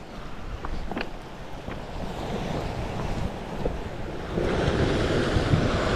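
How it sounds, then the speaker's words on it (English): Sea waves wash against the shore near a big rock on the coast at Hawthorn Dene, a steady rushing surf that swells louder toward the end, mixed with gusty wind buffeting the microphone. "Listen to the beautiful sea."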